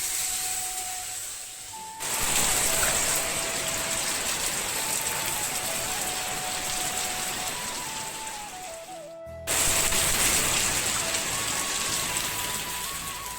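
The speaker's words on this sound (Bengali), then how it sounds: "দেখো বন্ধুরা কেমন বৃষ্টি হচ্ছে জানো" Heavy rain pours continuously outdoors, a dense, steady hiss of drops on surfaces close by that swells slightly louder partway through, with no voices.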